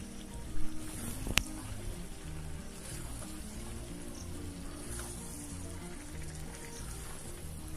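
Mutton browning with ground spices in a pan for Bengali mutton kosha, a steady soft sizzle and crackle with a faint low hum and one brief sharp click near the start.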